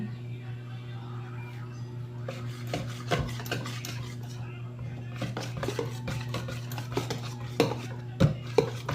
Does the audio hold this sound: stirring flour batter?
yes